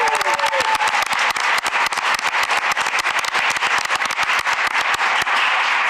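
Audience applauding a newly appointed school principal at a school board meeting, a steady burst of dense clapping that carries on for several seconds with no talk over it.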